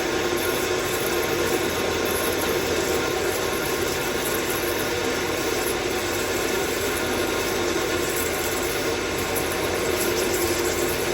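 Steady, loud continuous grinding whir of a metal lathe taking a parting cut with a PWT Multifix holder on the compound slide, coolant running, no chatter, constant in level throughout.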